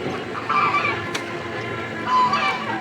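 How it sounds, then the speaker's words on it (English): Several geese honk intermittently at a moderate distance over a low outdoor background, a few brief calls scattered across the moment. "So Quacker Jack and Jean are in with the geese"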